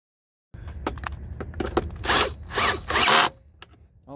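A ratchet finishing off hand-started bolts while installing a replacement headlight on a 1999–2004 Ford F250, rapid close clicking bursts alternating with longer rasping cranks, starting after a brief silence.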